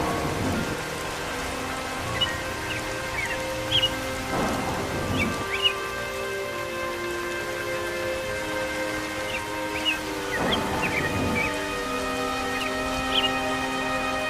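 Steady rain patters across a cartoon scene, with two bursts of rumbling thunder rolling in during a storm while faint bird calls chirp above the downpour.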